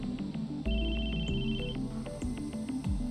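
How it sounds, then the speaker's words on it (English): A phone rings in the Chaos;Head NoAH visual novel, a bright electronic ringtone with a steady repeating tone pattern, loud and close over a soft background music bed, with no talking. "The sudden ringing of my phone startled me."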